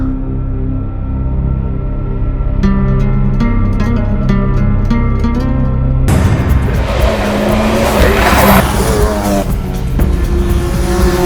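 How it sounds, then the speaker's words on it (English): A time attack race car engine revs hard and screams past on track at Cadwell Park, tires squealing, loud and close; the roar swells into a dense, harsh burst partway through. "let's go and give the car a shakedown and see what we got"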